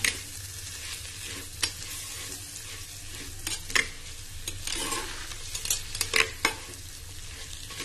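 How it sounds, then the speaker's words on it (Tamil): Spinach-type greens cooking in a clay pot, with steady frying sizzle and sharp scraping stirs at irregular intervals, close and moderately loud, no voices. "ரெண்டு கிண்டு கிண்டிட்டு கீரையை உள்ள சேர்த்துக்கலாம்"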